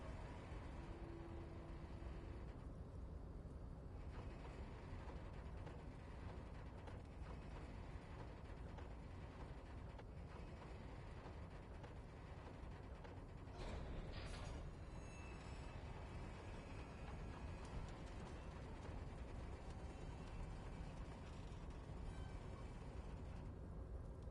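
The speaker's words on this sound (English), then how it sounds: "With a loud grind, the crane shifts overhead, moving a massive metal container through the air." A harbor crane in the Disco Elysium video game grinds overhead while it moves a massive metal container, heard as a steady, dense mechanical rumble with a brief metallic clank near the middle. It is faint and continuous, with no talk.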